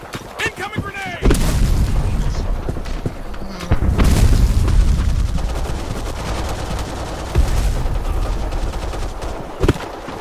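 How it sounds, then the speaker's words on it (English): Repeated loud gunfire bursts and heavy grenade explosions in the video game Black Squad, with booming blasts near 1, 4 and 7 seconds over continuous rattling shots, and a voice briefly heard amid the combat. "Incoming grenade."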